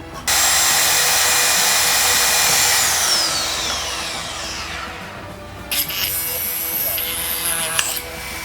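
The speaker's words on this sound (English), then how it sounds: "I'm basically going to drill little holes and then use a knife to cut between the lines and gouge it out" A power drill bores small window holes in a Tardis model with a steady, loud whine that runs almost throughout, its pitch gliding and shifting midway.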